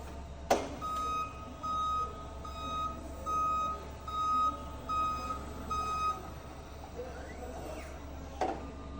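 A Linde E18S pedestrian stacker lifts, tilts and side-shifts a load in a warehouse, giving off a steady run of repeated electronic beeps over a low hydraulic hum, with a couple of sharp knocks near the start and end.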